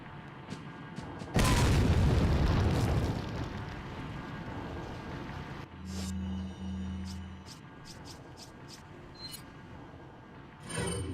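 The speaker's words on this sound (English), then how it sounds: "Incendiary hand grenade. I'm going to equip this." An incendiary hand grenade in Resident Evil 4 detonates with a loud, sudden boom and a long rumbling roar that fades, followed by quieter game sounds, clicks and a low hum, with no talking.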